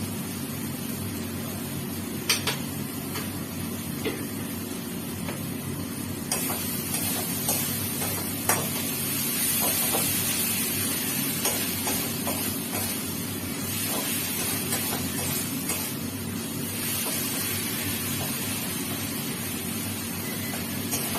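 Spices seasoned with a pinch of salt and sugar sizzle steadily as they fry in a pan, a continuous close hiss with a few faint clinks and scrapes throughout.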